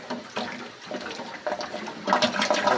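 Water draining out of an axolotl tank during cleaning, a steady gurgling, splashing rush close by with surges of pouring and no voices.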